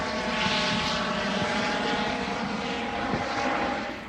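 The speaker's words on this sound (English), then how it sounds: "That was a helicopter" A helicopter passing overhead near the Golden Gate Bridge in San Francisco, a continuous droning engine and rotor hum that holds steady and loud throughout before easing off slightly at the end.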